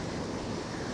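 Sea waves washing in at Magandang Beach in Pangasinan, a steady broadband rush of surf mixed with wind buffeting the microphone, loud and continuous with no voices.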